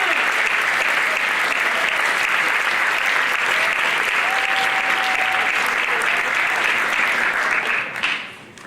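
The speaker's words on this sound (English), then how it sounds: "can we get a round of applause for Chloe" Steady, dense audience applause at a school spring band concert fills the hall at an even level for several seconds, then tapers off near the end as a voice begins.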